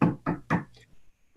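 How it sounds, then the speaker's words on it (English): Three firm knocks on a wooden surface in quick succession, close and loud, followed by a faint softer tap and a fourth knock at the end. "let me knock on wood"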